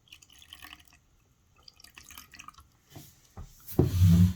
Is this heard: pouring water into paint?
yes